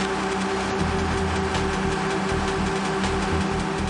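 A boat engine drones steadily and closely, a continuous low rumble with a faint hum running unbroken while big men swim in through the water toward it.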